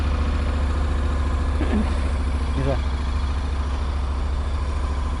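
A new motorcycle's engine idles steadily up close, a continuous low throbbing hum, with a couple of brief voices rising over it.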